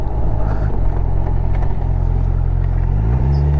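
A 2022 Kawasaki 1000 SX motorcycle being ridden, its engine rumbling steadily up close with a brief shift in pitch near the end, no talking.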